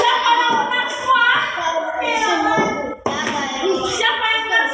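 Children in a primary-school classroom clap their hands for classmates in a quick rhythmic pattern, with young voices chanting along loudly throughout.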